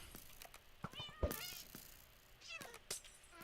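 A cat meowing in the Minecraft video game, several short meows spread across a few seconds with other game sounds around them, fairly close and clear.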